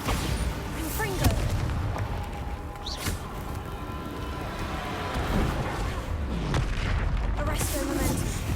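Booming spell blasts from the Bombarda and Confringo spells in the game Hogwarts Legacy, a dense run of heavy explosive thumps and rumbles over a continuous loud battle bed, with a voice talking along.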